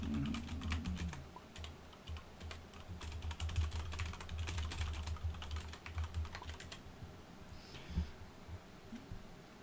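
Rapid, continuous typing on a computer keyboard, with clustered key clicks close up and a low steady hum underneath, easing off near the end.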